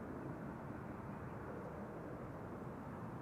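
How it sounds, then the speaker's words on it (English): A KLM Airbus A330 airliner arrives at Amsterdam Schiphol Airport as a steady, broad, distant engine roar that holds evenly throughout, with no voices. "There should be a KLM A330 somewhere behind it."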